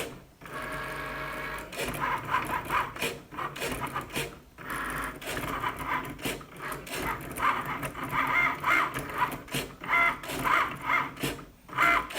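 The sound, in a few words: Cricut Maker cutting machine cutting out a design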